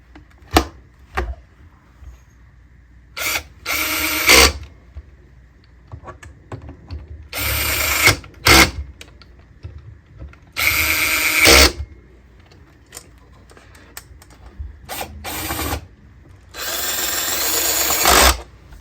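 A power drill drives screws to fix the neck onto a 1971 Fender Precision Bass: several short, loud whirring bursts separated by pauses, with small clicks and handling noises between them.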